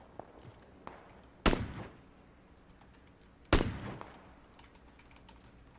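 Two loud gunshots ring out in the Battlegrounds video game, each a sharp blast with a short decaying tail, about two seconds apart, over faint clicks and quiet background.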